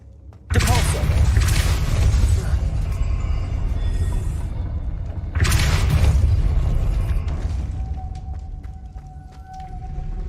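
Depulso spell cast in the Hogwarts Legacy video game, two heavy booming blasts several seconds apart, each with a deep rumbling tail and magical shimmer that lingers and slowly fades.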